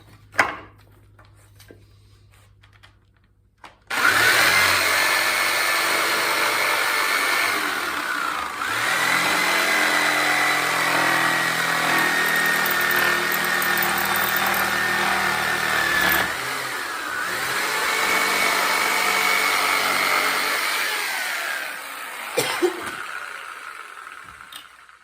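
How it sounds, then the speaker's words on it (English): A jigsaw cutting pallet wood for a Halloween stockade prop, starting with a few clicks, then a loud continuous buzzing saw with shifting pitch as the blade moves, pausing briefly and stopping near the end. "I'm gonna run my jigsaw around there."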